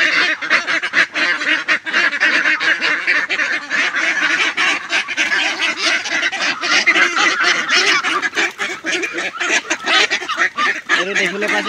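A flock of nineteen ducks, 68 days old, keeps up a dense, loud chorus of overlapping quacks and honks, close and continuous throughout.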